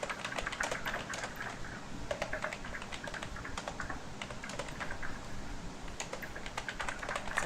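Typing on a computer keyboard while writing web page text, a steady stream of close, crisp key clicks with irregular rhythm and occasional heavier strokes, no voices.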